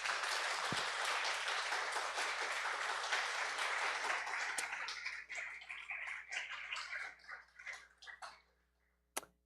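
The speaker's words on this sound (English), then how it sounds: "Let's give a round of applause to Jessica Chipman." Audience applause after a morning session on adapting "Neighbour Rosicky", dense clapping at first that thins into scattered individual claps and dies out.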